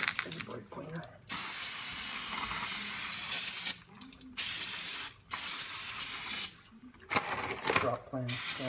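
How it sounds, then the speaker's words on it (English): Brake cleaner hisses out of an aerosol can onto the brake parts of a 2000 Chevy Cavalier during master brake cylinder work, coming in about five loud, close bursts with short quiet gaps between them. "Okay, there's a brake cleaner."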